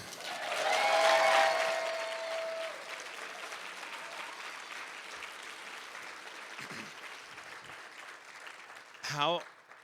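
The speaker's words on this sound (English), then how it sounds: "Huge round of applause." Audience applause rings out at a chamber of commerce awards dinner honoring sponsors, swelling loudly at first and then easing into a steady, sustained clapping that carries on before a brief louder burst near the end.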